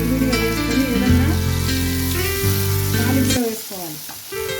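Egg noodles fry in a cumin and turmeric tempering, giving a loud, steady sizzle with a tonal hum beneath it that drops away near the end.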